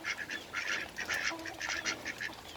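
A duck quacks in a string of short nasal calls, some doubled, fairly close and moderately loud, with no talk over them.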